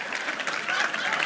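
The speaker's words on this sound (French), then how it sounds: "Ça ne mérite pas des applaudissements." A short burst of applause from a live comedy audience, many hands clapping densely at a steady level with a slight swell partway through.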